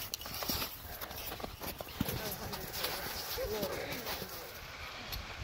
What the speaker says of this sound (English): time to walk on the snow.